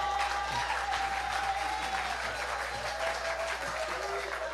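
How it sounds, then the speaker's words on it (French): A church congregation at a worship service breaks into sustained applause and cheering, a dense, even wash of clapping that runs the whole time. A voice talks over it. "acclamez bien vous aussi"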